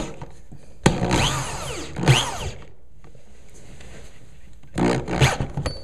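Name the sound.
power drill driving cabinet screw into wooden cleat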